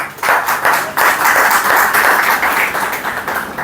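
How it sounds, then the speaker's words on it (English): Loud, close audience clapping in a classroom at a spoken English institute, brisk rapid claps in bursts, briefly pausing and resuming. "Clapping, please."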